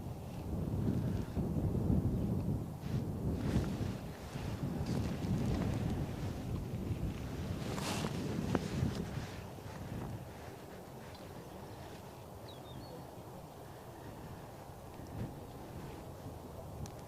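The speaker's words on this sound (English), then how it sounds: "that wind is starting to be a little bit keener at the moment" Gusty wind buffets the microphone outdoors at Birmingham Airport, a loud low rumble and roar that swells in the first half and then eases to a steadier, quieter blow.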